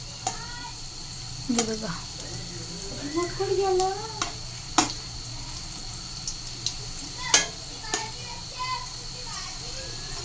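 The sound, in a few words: coriander fritters (kothimbir vadi) shallow-frying in a pan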